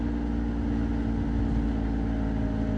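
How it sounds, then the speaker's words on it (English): A Porsche 987 Boxster engine drones steadily while cruising in second gear on a road near Windsor, a constant low hum with no rise in revs and no talking over it. "You can hear that engine. So this is just second gear, just cruising along."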